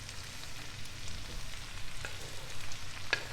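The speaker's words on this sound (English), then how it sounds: "Get all that spinach in there." Spinach sizzling in a pan over medium-low heat, a close, soft, continuous frying hiss with occasional stirring taps.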